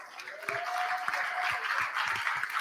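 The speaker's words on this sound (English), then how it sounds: "A round of applause." An audience at a youth ecopreneur award finals breaks into applause, a short burst of clapping with a voice heard over it.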